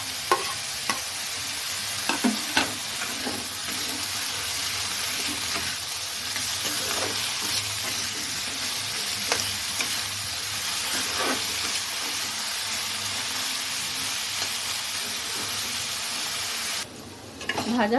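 Ridge gourd and tomatoes fry in a pan with onions, giving a steady close sizzle throughout. A spatula scrapes and clatters in irregular strokes as the vegetables are stirred, and a faint voice speaks now and then.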